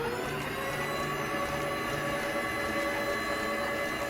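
A Tefal cold-pressed juicer motor runs with a steady, close mechanical hum and a low rhythmic grinding that holds evenly throughout.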